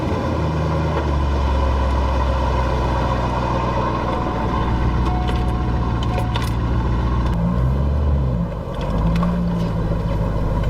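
A Corvette engine, left on a trickle charge overnight, runs with a steady loud low drone up close, a continuous idle hum that dips briefly near the end, without talk.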